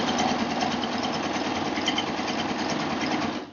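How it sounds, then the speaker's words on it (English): A Baby Lock Euphoria cover stitch serger runs steadily through fabric, a loud, continuous mechanical whirr with no pauses that winds down at the very end. "you can chain off on this serger, this cover stitch machine"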